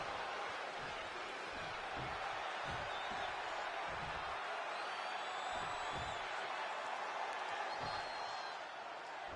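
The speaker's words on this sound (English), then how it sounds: "It's great to hear the crowd give this superstar the reception he deserves" A broad, continuous roar of a large arena crowd cheering in the video game WWE 2K25, with occasional thumps and bursts underneath, steady and fairly distant.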